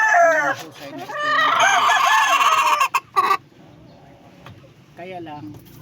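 A white chocolate gamecock, a Negros fighting-cock line, clucks and squawks in a bright, busy burst up close, goes quiet for a moment, then gives a shorter cluck near the end.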